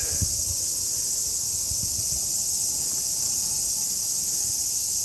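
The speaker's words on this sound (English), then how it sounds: "Yes, it's cicadas in the trees here." Loud, steady high-pitched droning of cicadas in trees during an evening in Tokyo, continuous and unbroken throughout, with faint low background rumble beneath.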